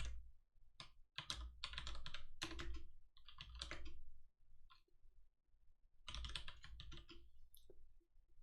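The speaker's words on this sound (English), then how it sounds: "My typing should be better." Quick bursts of keyboard typing, clustered key clicks in short runs separated by brief pauses, close and fairly quiet.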